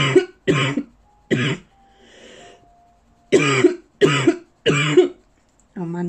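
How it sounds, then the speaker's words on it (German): Someone coughs repeatedly at close range, a series of harsh, hacking bursts separated by short pauses. "diese Husten immer wieder mal"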